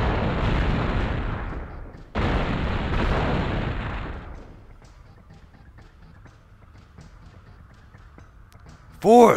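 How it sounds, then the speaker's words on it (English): Explosions in X-Men Legends II, two loud broadband blasts in quick succession that decay into a low rumble, followed by quieter game ambience. "EXPLOSION!"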